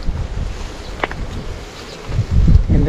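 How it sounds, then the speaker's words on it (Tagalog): Strong wind buffets the microphone in low, rumbling gusts on an open field, loudest near the end, with a brief faint whine in between. "napakahangin, no?"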